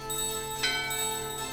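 A ringing bell tone from the Gizamaluke bell in Final Fantasy IX, with a bright strike near the middle over a steady layer of game music, heard alone without voices.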